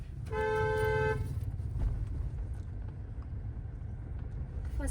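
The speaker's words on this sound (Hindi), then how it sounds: "अब यहाँ पे आपको क्या करना है, एक लॉन्ग हॉर्न देना।" A car horn blares in one sustained honk lasting about a second, over steady road and engine rumble.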